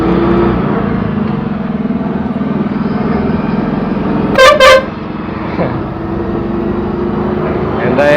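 Horn of an Eicher 13.5 m, 53-seater tourist bus blasting twice in quick succession, loud and close, over a steady low engine drone.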